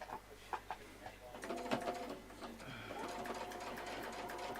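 A sewing machine stitches a quilting template design in a quiet room, its rapid mechanical whir and clatter starting in short bursts and then running steadily, with faint background chirps.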